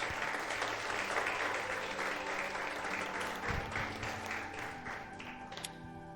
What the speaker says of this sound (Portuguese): E a igreja pode se sentar com as palmas para o Senhor Jesus Cristo.